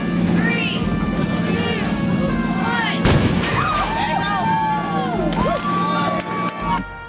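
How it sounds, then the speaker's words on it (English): A human cannonball is fired out of a circus cannon, one sharp, loud boom midway, with a crowd cheering and shouting around it and a narrator talking over the scene. "Being shot out of a cannon and soaring for 120 feet at 50 miles an hour"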